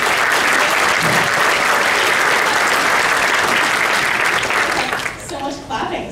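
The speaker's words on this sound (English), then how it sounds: "So much clapping, this is great." Applause from an audience at a Brickworld Chicago LEGO convention keynote, loud and dense throughout, thinning and fading over the last second.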